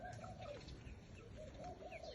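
Pigeons, including young birds, give soft, low repeated coos at a quiet, moderate distance over faint background noise.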